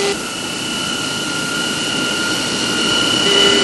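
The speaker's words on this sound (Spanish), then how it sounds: "Now the airplane's accelerating out real well, approaching 350. Left engine checks good, burner termination, the right one's coming in." Jet airplane engines run steadily as the aircraft accelerates, a loud continuous roar with a high whine that builds slightly toward the end, no voices present.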